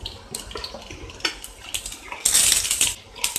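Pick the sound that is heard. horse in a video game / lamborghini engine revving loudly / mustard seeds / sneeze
mustard seeds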